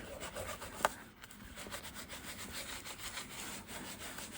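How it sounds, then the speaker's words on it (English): A wet baby wipe rubs over paper star shapes in a paper craft, a steady, faint, scratchy back-and-forth rubbing that goes on throughout. "I have a wet baby wipe here, and I'm going to go in and rub over these star shapes"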